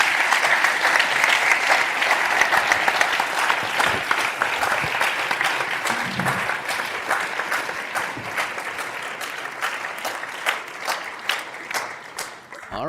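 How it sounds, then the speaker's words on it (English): An audience at a roundtable event in Bologna applauds, a dense and steady round of clapping that holds strong, then thins and fades toward the end. "please give her another big round of applause"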